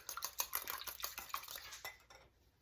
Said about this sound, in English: beat an egg or two and make an egg wash